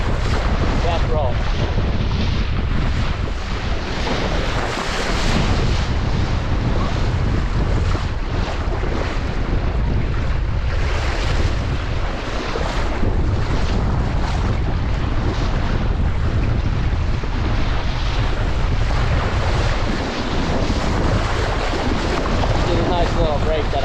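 A Laser sailing dinghy runs in high wind and waves on a lake, with loud constant wind buffeting the microphone and rushing water throughout.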